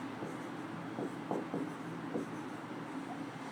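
A hand writes an example sentence for a class, the pen or chalk making several short scratchy strokes at an irregular pace over a faint, steady room hum, quiet and close.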